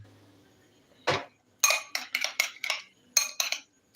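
A utensil stirs masala egg fry in a metal pan, giving one dull knock followed by a quick run of sharp clinking scrapes in uneven bursts against a quiet background.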